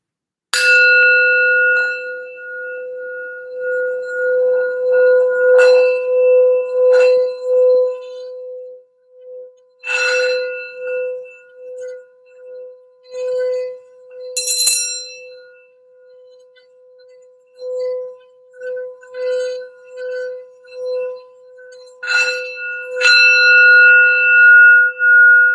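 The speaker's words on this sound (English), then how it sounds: "I want to do just a little sound bell for some grounding and healing for the reading" A sound bell rings out several times for grounding and healing, each strike leaving a long, steady tone that sustains and fades between fresh, brighter strikes; no one speaks.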